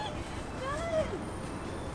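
A large bird, goose-like, gives a single drawn-out honking call over steady outdoor background noise across the street from a hotel.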